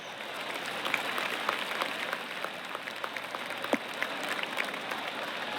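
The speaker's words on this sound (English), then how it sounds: "Oh, golf clap." Polite, scattered golf-clap applause from a distant video game golf crowd, a soft steady patter of clapping that continues throughout.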